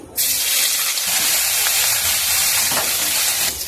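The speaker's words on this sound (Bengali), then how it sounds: "তেলটা গরম হয়ে গেছে আদা রসুনের বাটা দিয়ে দিচ্ছি" Ginger-garlic paste hitting hot oil in a wok, a loud sudden sizzle that bursts in and holds as a steady hiss for a few seconds before cutting off.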